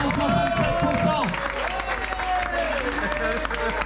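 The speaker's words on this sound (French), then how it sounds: "on applaudit bien fort" Applause and cheering from a crowd at an individual championship awards ceremony in Frontignan, a steady round of clapping under a babble of voices and an announcer's voice throughout.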